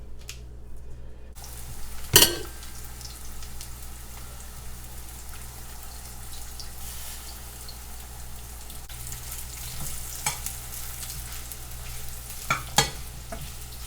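Corn tortillas fry in oil in a pan for homemade rice and chicken chilaquiles, giving a steady close sizzle with occasional stirring and clinks of utensils against the pan, and no talking.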